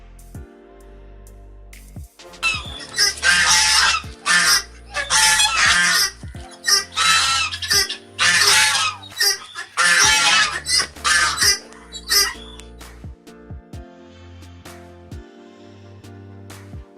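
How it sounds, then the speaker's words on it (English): Ducks at a small, deep neighbourhood pond, loud repeated honking quacks coming in bursts with short pauses between, close and dominant with no talking. "Now I am going to show you some ducks."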